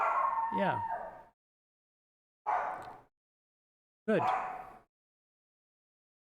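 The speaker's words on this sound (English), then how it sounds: "if you heard some dog barking in the background" A dog barks and howls in three separate bursts, the first longer and wavering, with silent gaps between, somewhat distant behind a man's brief spoken words.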